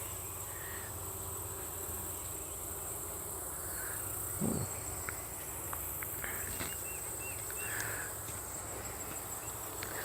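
Bees drone quietly in a beehive, a low, even buzz beneath steady insect chirring, with one brief louder thump in the middle.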